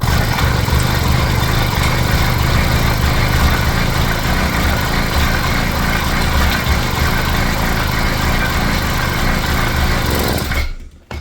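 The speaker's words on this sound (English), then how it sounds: "once we spin the engine, this will go away, I think, and we'll see" An 80cc motorized bicycle engine that had sat unused for years is spun over to start. It gives a loud, steady, close-up mechanical drone that holds unbroken for about ten seconds, then cuts off abruptly at the end.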